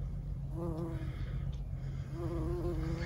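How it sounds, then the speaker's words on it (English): A bumblebee buzzes around lavender plants in a Vermont garden, a steady hum that comes and goes as it moves close by, heard over a low background rumble. "Mr. Honeybee, bumblebee, I mean."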